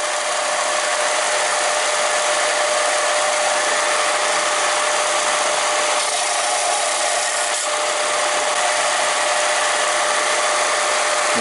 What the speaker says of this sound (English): just a few seconds on the flatbed grinder and we'll get this spacer down to size